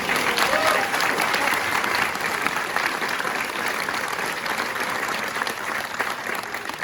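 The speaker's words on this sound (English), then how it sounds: "please give a round of applause for Light Infantry Squadron leadership" Audience applause at a U.S. Army Ranger School graduation ceremony, a large outdoor crowd clapping steadily and densely, loud at first and easing slightly over seven seconds.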